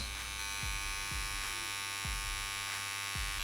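A CNC X-1 tattoo machine runs its needles at about 9 volts with a continuous close electric buzz, marked by soft regular bumps about every half second.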